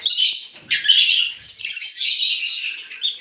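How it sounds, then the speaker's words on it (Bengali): Two-month-old green Fischer's lovebird chicks chirp close by in quick, shrill bursts with brief gaps between, loud and alone. "গ্রিন ফিশার পাখি এখানে আমি 2টা আলাদা করে রাখছি।"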